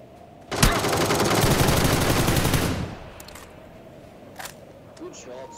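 A burst of rapid automatic gunfire from PUBG on PS5 rattles loudly for about two seconds, followed by a few faint scattered shots.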